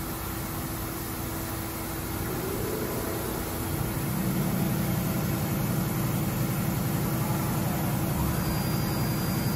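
A 2013 DMG Mori Seiki CTX beta 1250TC CNC lathe spindle turning at 1,000 RPM gives a steady, dense machine whir with a low hum, continuous and even throughout, slightly fuller in the second half.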